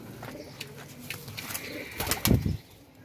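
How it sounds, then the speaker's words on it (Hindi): Pigeons cooing nearby with a burst of flapping wings near the end, soft low coos scattered throughout before the louder wingbeats. "खुश पंजे का कबूतर है यार, कोई शक नहीं का।"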